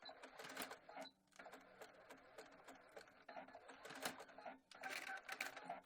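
A sewing machine runs zigzag back-and-forth stitches to secure a skirt ruffle, in short close bursts of rapid mechanical clatter broken by brief pauses.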